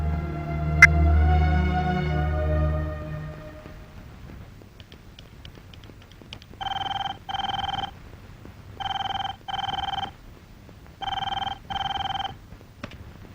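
A telephone rings at night with three loud pairs of electronic double rings, evenly spaced. Before the ringing starts, a low, fading sound and faint background hum are heard.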